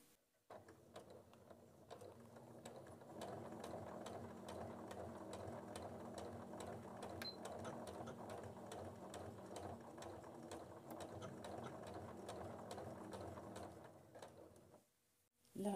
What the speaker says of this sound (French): Donc je vais coudre jusqu'ici, je fais un point d'arrêt